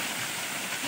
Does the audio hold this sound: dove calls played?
no